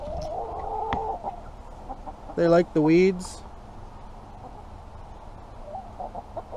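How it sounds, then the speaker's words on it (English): Backyard chickens cluck in a garden as weeds are tossed to them, with a short burst of two loud, close calls midway while someone talks over the rest. "I'm just gonna throw some weeds in for my chickens."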